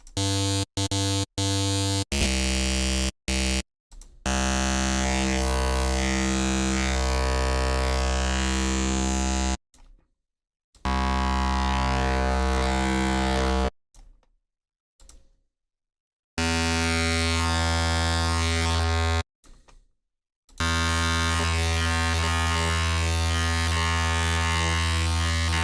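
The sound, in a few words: Pigments synthesizer spark wavetables with buzzy results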